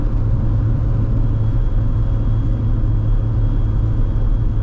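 A 1990 Ford Probe GT, a Mazda MX-6-based coupe, its engine giving a steady, loud, low rumble throughout with no voices over it.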